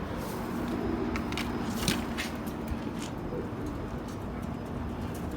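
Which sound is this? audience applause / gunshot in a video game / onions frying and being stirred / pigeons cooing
pigeons cooing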